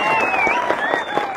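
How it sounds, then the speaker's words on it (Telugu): A crowd at a Kodangal political rally applauds, a brief burst of massed clapping mixed with crowd noise and a whistling tone over it. "ఇవాళ మీరందరూ పెద్ద ఎత్తున చప్పట్లు కొట్టండి"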